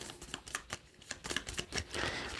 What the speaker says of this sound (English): now we have to shuffle our discard pile